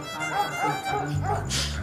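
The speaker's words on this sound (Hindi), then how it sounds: "अरे भौंक भौंक के इसने मेरे कान पका दिए" A female dog barks in a run of short, yipping barks, about four in quick succession, close and fairly loud, with a faint voice in the background.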